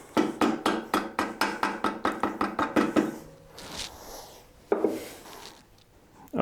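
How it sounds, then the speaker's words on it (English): Bolt being driven into a motorcycle shock mount, a rapid even series of about a dozen sharp close hammer blows, then a pause with quieter knocks and scrapes. "and we'll drive the bolt in."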